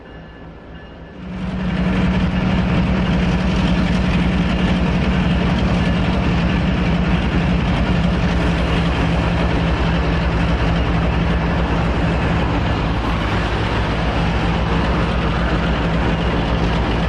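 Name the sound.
special firefighting train running on rails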